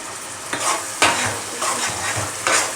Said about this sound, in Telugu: ఒకసారి కలదిప్పుకొని మధ్య మధ్యలో కలదిప్పుకుంటూ ఉండాలి